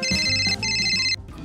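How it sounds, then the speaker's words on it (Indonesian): A telephone ringtone plays loudly and close, two bright electronic ringing bursts with a brief gap, with no voices over it. "Ada panggilan telepon."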